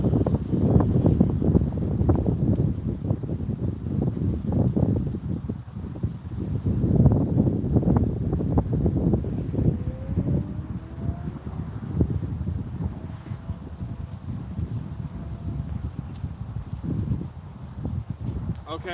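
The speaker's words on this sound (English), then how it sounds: "this wind is ridiculous" Strong wind gusts outdoors on a fall day, roaring and buffeting the microphone in heavy, uneven waves, with a person talking through it.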